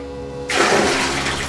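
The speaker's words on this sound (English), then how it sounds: "there you had the plunger where you pulled to flush the toilet" An old pull-chain toilet with an overhead tank flushes: a sudden loud rush of water starts partway in and continues steadily, close and filling the space.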